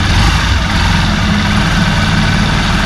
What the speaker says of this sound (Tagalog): yung andaran ng ating Suprema,